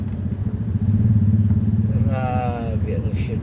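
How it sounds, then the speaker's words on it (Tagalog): Motorcycle and car traffic on a congested Manila street, a near engine rumbling and revving for a few seconds, with a voice speaking over the traffic noise. "Dumadami ang motor. Lumiliit ang mga sakyan. Pero sobrang traffic."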